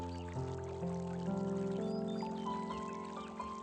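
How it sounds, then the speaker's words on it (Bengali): A steady stream of lukewarm water pours into a bowl of dried chapila fish, its pitch rising gradually as the bowl fills over a few seconds. "শুটকির সঙ্গে আমি দিয়ে দিচ্ছি কুসুম গরম পানি"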